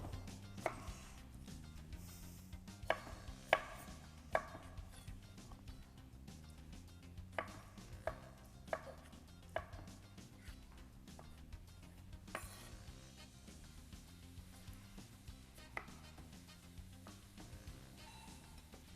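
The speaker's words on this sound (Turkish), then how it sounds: "Ben de şimdi hızlıca ayırdığım bu çilekleri doğruyorum." Quiet, irregular knife taps on a cutting board as strawberries are chopped, with faint kitchen clatter and a low background hum.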